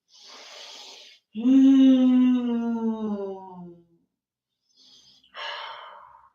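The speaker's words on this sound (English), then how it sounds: "The deeper you exhale, the more you can fold." Deep breaths during a yoga flow: a sharp inhale, then a long, loud, voiced exhale like a sigh, followed by another quick breath close to the microphone.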